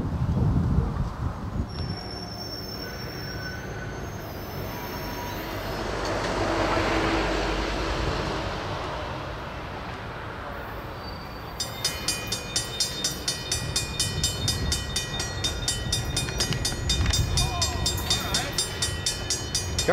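An NX10 freight train shoves its consist east toward Lakeland, with a steady rumble of rolling cars, faint high squeals and a brief louder swell midway, then rhythmic clanking and metallic ringing continuing to the end; a voice is faintly heard.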